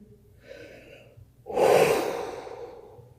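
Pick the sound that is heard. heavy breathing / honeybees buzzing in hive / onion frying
heavy breathing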